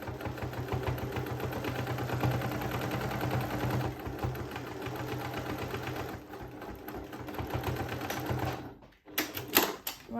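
A sewing machine runs a steady, fast topstitch along the edge of a zip on a small patchwork pouch, a dense mechanical rattle lasting most of the stretch before stopping abruptly near the end.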